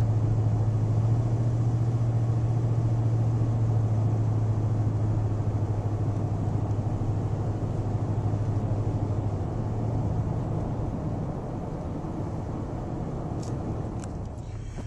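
Steady engine rumble and road noise inside a car cruising along a scenic highway through Keystone Canyon, Alaska, continuous and fairly loud for about fifteen seconds with no talking, easing slightly near the end.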